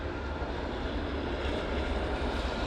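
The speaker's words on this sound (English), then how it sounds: "Yeah, the 747 is a loud one. I can hear it loud and clear." Broadband roar of Boeing 747 jet engines during a takeoff run at London Heathrow, heard from across the runway as a steady, dense rumble with no voices over it.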